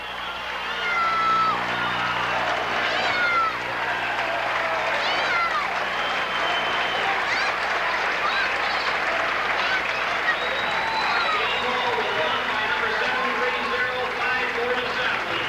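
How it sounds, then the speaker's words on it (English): Crowd noise at a 1979 high school basketball game, Morton Potters versus Rockford East on Parents Night, fills the gym with continuous cheering and shouting, steady and loud throughout, with voices rising over it. "Listen to that crowd."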